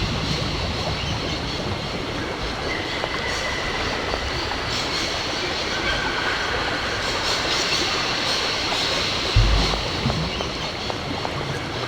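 A train rolls along steadily in the Syberia video game, a continuous close rumble with rattling carriage noise and a brief heavier thump near the end.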